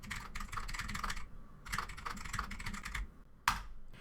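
Rapid keystrokes clatter on a computer keyboard while text is entered in Google Docs, coming in close, fairly quiet bursts of clicks separated by short pauses, with one sharper final tap near the end.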